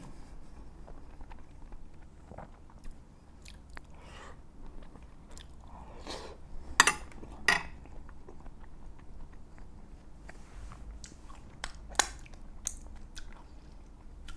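Stuffed dolma eaten by hand, chewed close to the mic with soft wet mastication and occasional crisp bites, steady and quiet with a few louder clicks, no talking.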